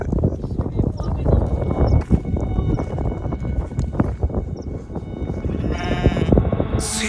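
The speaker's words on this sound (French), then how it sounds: "La reine des moutons, elle est là." Sheep in Scotland bleat repeatedly close by amid a dense flock, with hooves shuffling and a steady crowd of overlapping calls, and someone speaks briefly.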